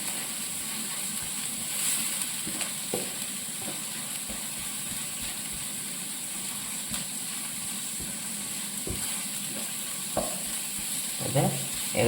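Sliced ingredients for a Kerala chicken thoran sizzle in a pan while being stirred, a continuous near hiss punctuated by occasional scrapes and knocks of the spoon, with no talking.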